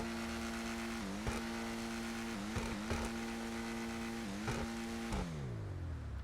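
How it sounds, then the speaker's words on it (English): A Lampadati Cinquemila's V8 engine in GTA Online revs repeatedly, the steady exhaust drone broken by several sharp throttle blips before falling away near the end, with no talking. "give it some gas and we can rev it up and do that sound test"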